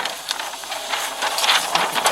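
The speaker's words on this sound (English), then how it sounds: "It prints out like 2 extra pieces of tape." A newly installed police ticket printer feeds out two extra lengths of tape, making a mechanical whirring and ratcheting with irregular clicks, moderately close and steady.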